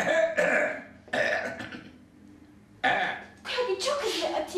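A few harsh, throaty coughing bursts come close to the microphone, separated by short pauses.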